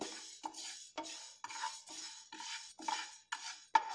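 Fenugreek seeds dry-roasting in a pan over a low flame, stirred with a spoon in steady rhythmic scrapes, about two per second, close and clear with no frying sizzle.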